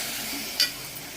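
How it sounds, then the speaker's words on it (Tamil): Minced mutton stirred in a frying pan: a steady sizzle with a brief scrape of the spoon against the metal, close and continuous. "புதுசாக கட் பண்ணி வச்ச கொத்தி வச்ச ஆட்டுக்கறி போட்டு நல்லா கிளறி விடணும்."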